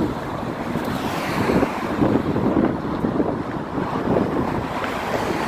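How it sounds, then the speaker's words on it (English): Strong wind buffeting a phone microphone while walking the Golden Gate Bridge, a loud continuous rushing roar with irregular gusty surges throughout, no voices present. "It's also pretty windy here, and it feels like my phone's gonna blow out of my hand."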